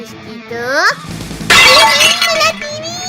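A glass TV screen smashes and shatters in a cartoon about a cat, a loud sudden crash that bursts in mid-clip and rings on, with squeaky cartoon voices before and after.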